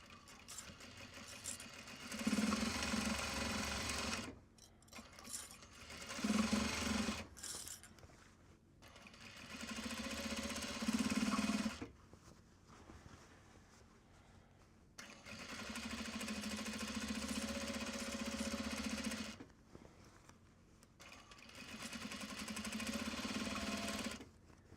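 A sewing machine stitches a backstitched seam on Japanese fabric project bags in several bursts of steady mechanical whirring, each lasting a few seconds with pauses between, close and fairly quiet.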